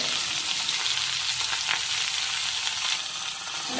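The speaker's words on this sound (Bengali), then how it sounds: "ওই তেলের ওপরই দিয়ে দেব কেটে রাখা আলু" Steady, loud sizzling and crackling of cut potatoes with salt and turmeric frying in hot oil, a continuous hiss throughout.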